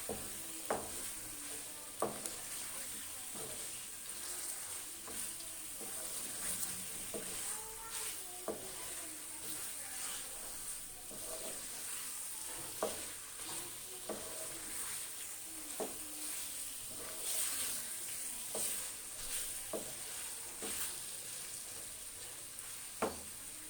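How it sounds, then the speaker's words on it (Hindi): Chicken being stirred and mixed in a frying pan over the heat, a soft steady sizzle under repeated scraping clicks of the spoon against the pan at an irregular pace, quiet and close. "अब हम इसमें चिकन ऐड कर देंगे और अच्छी तरह से मिक्स करेंगे।"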